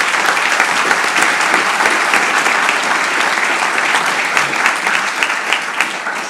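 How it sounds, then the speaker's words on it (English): At a public forum on Thomas Square at the Honolulu Museum of Art, an audience claps in a steady, full round of applause, dense and close, with no talking over it. "Let's give him a round of applause and thank him a lot."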